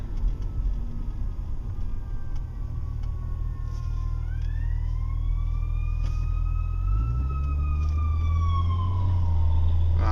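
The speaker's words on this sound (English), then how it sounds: "We just had an ambulance come through" An ambulance siren wails over steady low traffic rumble, its pitch rising and bending as the vehicle draws near and passes, fairly loud throughout.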